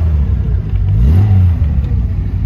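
A 1976 Triumph TR6 engine runs loudly and close, its revs rising briefly mid-way before settling back into a steady rumble.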